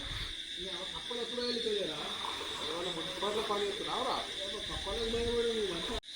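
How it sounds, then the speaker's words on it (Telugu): Frogs croak in repeated bursts against a steady hiss of night insects. The calls come from nearby, and a person speaks briefly under them. "ఈ కప్పలు ఇవన్నీ వస్తున్నాయి"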